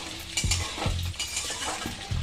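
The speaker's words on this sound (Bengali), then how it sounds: "কড়াইতে আমি তেলের মধ্যে এগুলো দিয়ে দিলাম" Potatoes and cauliflower fry in hot oil in a wok, a steady sizzle broken by several rhythmic scraping stirs, close and fairly loud with no voices.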